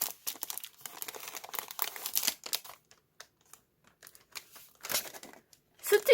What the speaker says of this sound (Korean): 기억이 안 나니까 뜯어볼게요